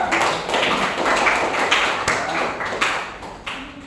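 A classroom audience applauds a student presentation group with quick, dense clapping close by that runs steadily throughout, with no talk over it.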